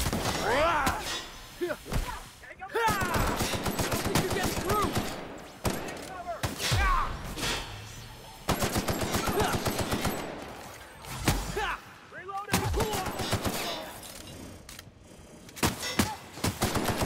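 Video game combat with repeated machine-gun bursts and heavy impact thuds that come in loud rapid volleys, broken by brief pauses and mixed with voices.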